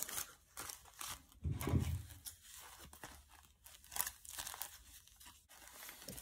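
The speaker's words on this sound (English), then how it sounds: "you cut off all this extra edges right here" Scissors cut the extra edges off a large maxi pad to make a home-made respirator mask. Crisp tearing and crinkling snips come close up, with a heavier crunch near the start and quieter rustling after it.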